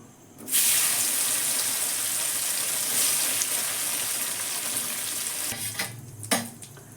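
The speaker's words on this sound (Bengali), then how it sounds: "আর যে কটা পনির আছে এবার ভেজে নিচ্ছি" Paneer pieces sizzle in a hot pan, a steady, dense frying hiss that starts suddenly and holds near and loud for several seconds before thinning out with a few clatters at the end.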